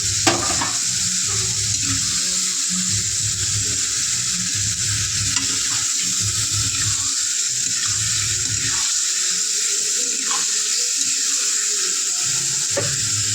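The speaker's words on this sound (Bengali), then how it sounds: "আমি দিয়ে দেবো মাছগুলো কষিয়ে রান্না করব, ভাজবো না।" Fish pieces stir-cooked in hot spiced oil give a loud, close, constant sizzle with stirring scrapes and soft clatter throughout, and no one speaking.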